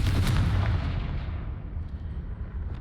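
A Confringo fire spell in the game Hogwarts Legacy hits with one loud, close blast at the start, followed by a rumbling tail that fades over a few seconds.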